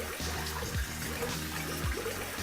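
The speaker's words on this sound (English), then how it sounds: "I'm gonna plunge the toilet a little bit and see if that water can be pushed up another drain." A plunger working a backed-up toilet, with low, rhythmic gurgling surges and water trickling and sloshing in the bowl, close and moderately quiet.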